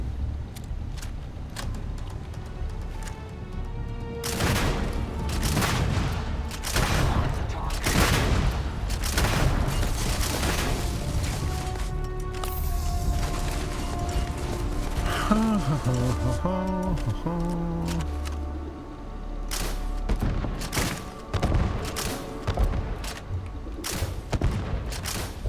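Suppressive gunfire in Starfield: repeated loud bursts and booming shots, some in rapid clusters, over a dense layer of game sound and music throughout.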